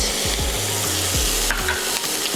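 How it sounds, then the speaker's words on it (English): Thinly sliced pimento peppers and diced onions sauté in butter in a pan, a steady close sizzle broken by repeated scraping stirs across the whole stretch, with no talking. "Gonna saute this around for a little bit."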